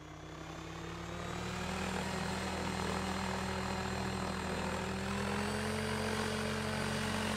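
Goblin helicopter sound effect in the PhoenixRC flight simulator, pitched too low: a steady, droning rotor-and-engine hum with a slight upward pitch shift, fairly faint and continuous with no talk.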